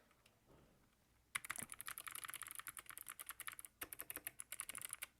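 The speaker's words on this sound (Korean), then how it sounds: "이 키보드 같은 경우는 키감이 이래요. 들려드릴게요." Typing on an ABKO Hacker K8200 V1 crystal mechanical keyboard: two runs of quick, crisp keystrokes close up, split by a short pause, with no talking.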